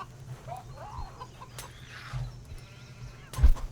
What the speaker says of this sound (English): There they are. There's those chicken raiders.